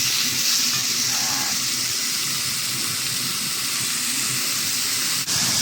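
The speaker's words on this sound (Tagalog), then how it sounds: "minced beef. Sa pinisa kong onion at saka carrots." Minced beef frying with sautéed onion and carrots in a pan, producing a continuous close hissing sizzle with a faint stir near the end.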